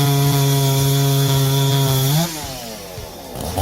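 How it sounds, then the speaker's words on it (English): A SteelMist 500i chainsaw with electronic fuel injection runs loud and steady at high revs, then its pitch drops sharply as the engine bogs under load and picks back up near the end; no voices. "Meet the SteelMist 500i chainsaw, a technological marvel."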